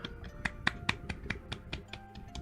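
A series of sharp, evenly spaced claps, about ten in a row, sounding close and fairly quiet with no voices.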